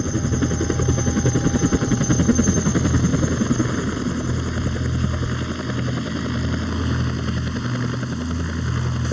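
Helicopter rotors chop steadily and loudly throughout at a freeride ski competition in Verbier, a continuous close thudding drone with no talk over it.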